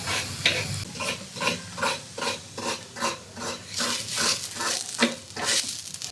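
Food being stirred in a pan on a gas stove, a steady rhythmic scraping repeated about twice a second, close and moderately loud, with a faint sizzle underneath.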